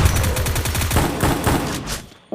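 Rapid automatic gunfire from a mobile shooter game, a steady rattle of close, loud shots in quick bursts before cutting off abruptly.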